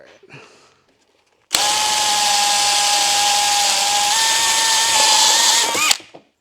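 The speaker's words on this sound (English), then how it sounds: "I have a simple step bit drill" A loud power drill with a step bit whines steadily for about four seconds while enlarging a hole in a 4Runner dash, its pitch shifting slightly midway as the bit bites, then cuts off abruptly; no talking.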